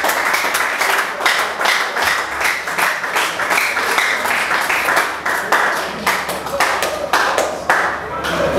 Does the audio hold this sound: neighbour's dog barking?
no